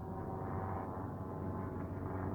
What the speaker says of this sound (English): Yeah, that's a plane flying by.